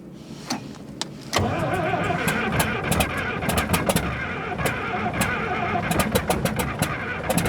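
Caterpillar D6C bulldozer diesel engine cold-starting after a new head, turbo and major engine work: a few clicks, then the engine catches and runs with a loud, rough, clattering roar and sharp irregular knocks close by.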